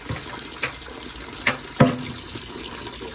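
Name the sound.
water draining from boiler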